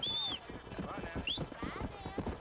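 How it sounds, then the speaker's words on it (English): Hooves of a horse clip-clop in quick rhythmic steps in the video game Red Dead Redemption, close and clear, with a brief high whistle at the start and a voice speaking over the hoofbeats. "Ahí está el caballo."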